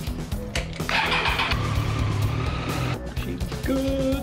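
A motorcycle being started after sitting through the winter cranks and catches, then its engine runs and revs briefly, close and loud.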